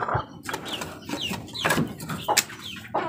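A sick chicken clucks repeatedly and close by, giving short uneven calls with small gaps between them and a faint hint of voices in the background.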